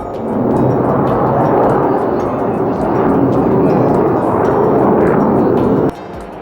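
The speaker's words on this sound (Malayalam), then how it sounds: "തലങ്ങും വിലങ്ങും വിമാനങ്ങൾ ആകെ ഒരു ബഹളം തന്നെ" A loud, steady roar of aircraft at an air show in the USA passes overhead for several seconds, then drops off sharply near the end.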